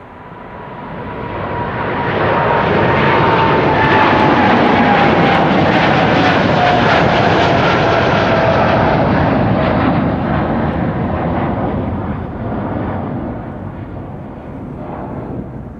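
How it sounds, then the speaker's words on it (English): KLM's Boeing 787-10 Dreamliner PH-BKI leaves Amsterdam Schiphol for Los Angeles in sunshine. A powerful, continuous engine roar swells within seconds and holds loud with a faint descending whine, then eases off toward the end. "So this is KLM Flight 601 on its way to LAX, the PHBKI 78710 Dreamliner."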